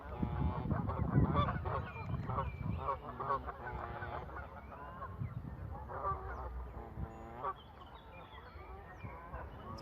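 Several geese honk in repeated calls close by at the edge of water in Hainult Forest, loud and overlapping, with young birds near the bank and faint background noise between calls.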